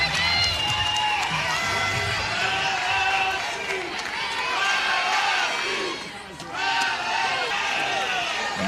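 A Tiger Park softball crowd roars steadily throughout a women's college game between Florida and LSU, a dense, sustained wall of cheering with a brief dip near the end before swelling again, heard beneath an announcer's voice.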